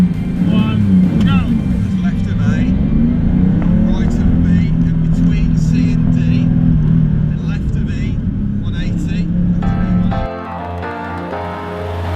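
Rally car on a test course accelerating hard, its engine droning loud and close with a rising rev, then cutting off sharply near the end as a voice speaks over it.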